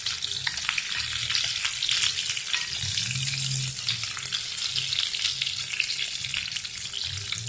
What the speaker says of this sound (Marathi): सुरुवातीला थोडीशी हलवून हलवून भाजायची वांगी, म्हणजे छान भाजल्या जातात खरंच